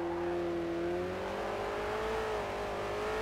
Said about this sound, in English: even barely pushing on it, it's got the tires spinning up